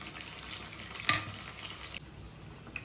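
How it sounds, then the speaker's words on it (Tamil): Sesame oil is poured into a kadai and heats for a chicken gravy, giving a soft, steady sizzle close by with a brief clink of utensil against the pan. "இந்த கடாயில் இந்த கிரேவிக்கு தேவையான அளவு நான் நல்லெண்ணெய் எடுத்திருக்கேன் எண்ணெய் ஊற்றிக்கலாம்"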